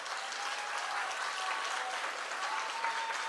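Dense, continuous applause from a large graduation ceremony audience, a steady wash of clapping without pause.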